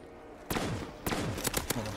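Gunshots in Black Ops 3 Custom Zombies on a Scooby-Doo map: one sharp shot, a second after a short pause, then a quick cluster of three, each loud and close with a brief echoing tail.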